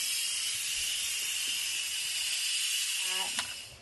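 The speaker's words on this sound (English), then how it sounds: "so I'm going to release the steam here by letting that go" Steam hisses continuously and loudly from an Instant Pot pressure release valve while cooking chicken bean soup, a steady close jet that tapers at the end with a small click.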